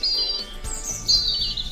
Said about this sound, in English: It's Daddy Bird. He's making a nest